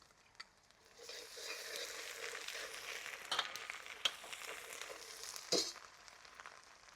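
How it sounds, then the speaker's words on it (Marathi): Ginger garlic paste frying in melted butter in a kadhai over a wood-fired stove for dal makhani, a soft steady sizzle starting after a second, with a few sharp clinks of a spoon stirring against the pan. "आपलं बटर वितळलेले आपण आता त्याच्यामध्ये आलं लसूणची पेस्ट टाकून घ्यायची आहे"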